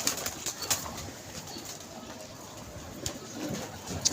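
Pigeons at a pigeon club, soft cooing and occasional wing flaps against steady ambient noise, fairly faint and close.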